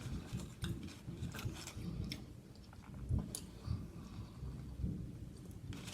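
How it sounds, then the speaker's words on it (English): Thunder rumbles outside before rain, a low, rolling sound heard from indoors, mixed with close chewing and clicking noises from a meal, with no speech. "If y'all can hear that thunder outside,"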